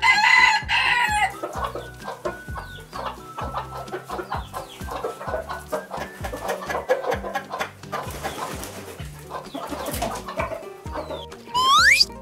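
A rooster crows loudly among hens clucking steadily in a farm pen, with the clucks close and continuous and a final crow near the end.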